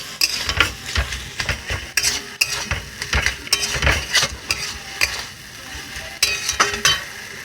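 Potato pieces are sautéed in a pan and stirred continuously, giving a loud, close, busy sizzle with repeated scraping and clattering strokes of the spatula against the pan.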